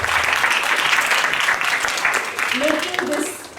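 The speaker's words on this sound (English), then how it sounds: "So big round of applause for" Audience members at a Class 10 parent orientation at Smart Wonders School clap in a big round of applause, a steady crowd wash with a voice heard briefly over it near the end.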